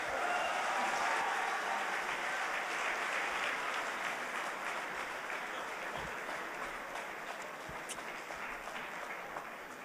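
Sustained audience applause fills a concert hall at a concert, a dense wash of clapping that holds steady for the whole stretch with no voices over it.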